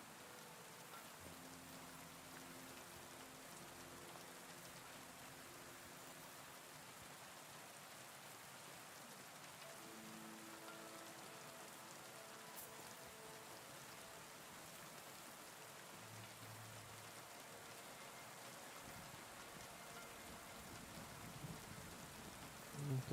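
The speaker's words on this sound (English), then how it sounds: "it starts to rain now" Soft, steady rain in Kingdom Come: Deliverance 2 hisses evenly throughout, a quiet continuous patter with no voices.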